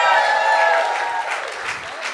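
An audience at a live comedy show applauding, a loud, sustained wash of clapping with some crowd voices, steady and then slowly tapering.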